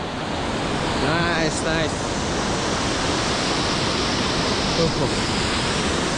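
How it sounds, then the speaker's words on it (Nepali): Waterfall tumbling down a hillside on a trek toward Panch Pokhari: a loud, steady, close roar of rushing water that fills the scene, with brief excited voices calling out over it. "झर्ना रहेछ त्यो अघि नको झर्ना चाहिँ ठुलो थियो भने यो पनि ठिकै थियो"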